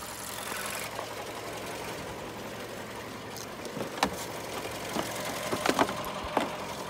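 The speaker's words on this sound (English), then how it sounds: "Why this car ticks is beyond me." A Chevy car engine idles after being jumpstarted from a neighbouring car following three days of sitting, a faint steady hum with a few sharp ticks and clicks that grow more frequent toward the end.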